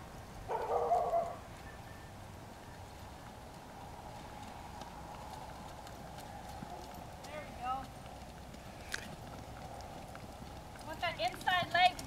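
A horse's hooves clip-clop in a lope, faint and rhythmic, with a person talking over them.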